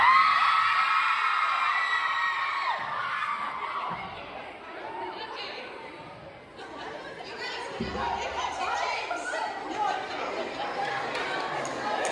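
Book tour audience in Miami screaming, whooping and cheering, a loud sustained crowd roar with excited shouts that dips briefly then swells again, with chatter mixed in.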